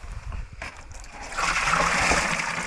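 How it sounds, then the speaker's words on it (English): Worm compost tea, thick with sediment, pours from a container into a bucket, a steady watery gush that swells louder after the first second and keeps running close by. "and then I pour it into a bucket"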